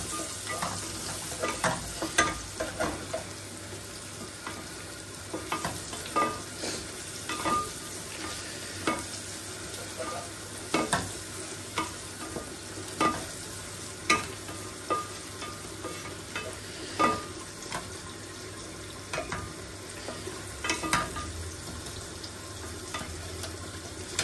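Egg frying with meat in a pan over raised heat, a steady sizzle broken by rhythmic, repeated scrapes and clacks of a spatula stirring, close up and sustained, with no one talking.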